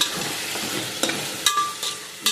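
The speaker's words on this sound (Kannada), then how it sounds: "ಚೆನ್ನಾಗಿ ಮಸಾಲ ಫ್ರೈ ಆಯಿತು" Pulao masala frying in a pan for a veg pulao, with a dense, close sizzle and a few sharp scrapes of the spoon against the pan.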